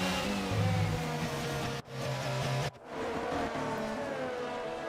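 F1 race cars on a formation lap at Suzuka in a racing video game: a loud, sustained engine whine near the listener with shifting pitch, brief dips in the sound, and a steady roar resuming afterwards.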